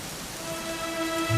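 Steady rainfall in the video game Dragon Quest XI, a continuous even hiss of rain with a faint tonal game hum beneath and a low rumble swelling in at the very end, brief and without speech.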